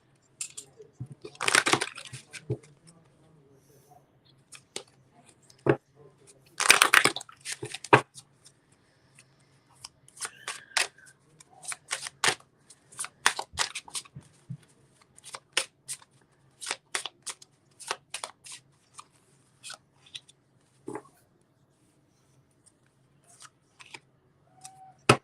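Tarot cards are shuffled by hand in quick crisp bursts of riffling and flicking, with sharp snaps and pauses between rounds, close and dry with no talk.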